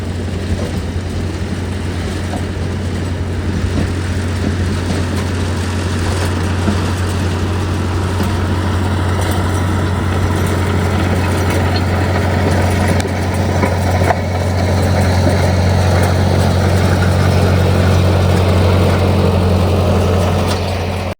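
Tractor blading a soft dirt road after a storm, its engine droning loud and steady at close range with a low continuous rumble throughout, no talking.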